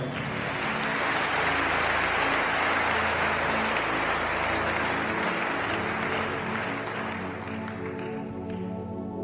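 A church congregation bursts into loud, sustained applause and cheering, dense clapping filling the hall with music underneath, easing slightly in the final seconds.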